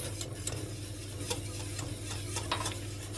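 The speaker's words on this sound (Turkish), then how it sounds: "arpa şehriye salatam için arpa şehriyelerimi kavurmaya başlayacağım" Steady sizzling of orzo pasta toasting in hot oil in a pot, with occasional light scraping and stirring clicks against the pot.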